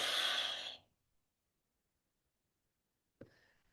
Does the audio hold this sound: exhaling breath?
yes